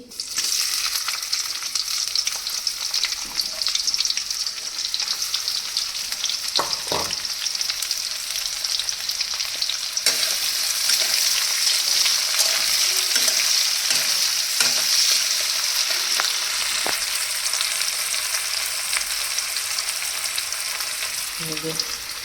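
Onion fries in a pan with a loud, continuous crackling sizzle. Occasional stirring scrapes and knocks come through the hiss, and nobody speaks.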